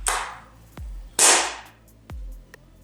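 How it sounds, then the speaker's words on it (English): An Ares Amoeba Striker bolt-action airsoft rifle fires twice, each sharp snapping shot close and loud, with a softer mechanical click afterwards. "You'll now be able to fire a single shot from the rifle"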